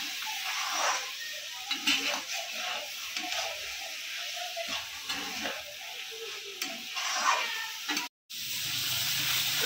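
Carrot halwa with sugar being stirred in a pan, a steady soft sizzle and scraping of the spoon running throughout, with brief pauses, close and fairly quiet, no talking.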